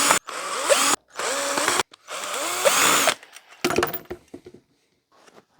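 Power screwdriver backing screws out of an amplifier heatsink, three close whirring bursts with rising and falling pitch separated by short pauses, then faint clatter and handling noises.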